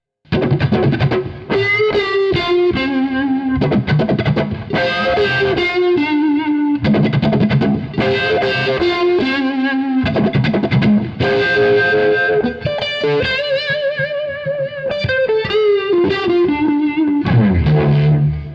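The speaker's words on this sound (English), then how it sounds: "mute the strings and strum the snare pattern. And with the Univibe going at speed" Muted electric guitar strings are strummed in a rhythmic snare-drum pattern through a Univibe effect at speed, giving a swirling, warbling modulation, loud and continuous.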